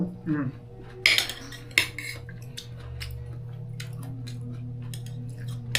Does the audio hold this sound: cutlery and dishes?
yes